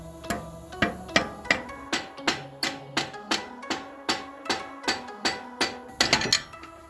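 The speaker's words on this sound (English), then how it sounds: "gently tap on the back of your pry bar, and that's going to pull the axle out of the transmission" A hammer taps repeatedly on the back of a pry bar to pop a front-wheel-drive axle out of the transmission, about a dozen sharp metallic strikes in a steady, evenly spaced rhythm.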